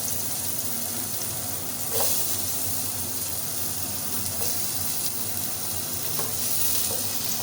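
Chopped onion fries in oil for tempering a country-style fish sambar, a dense, even sizzle filling the whole stretch with a few faint stirring scrapes, close and with no talk.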